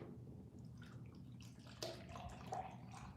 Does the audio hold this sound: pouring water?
yes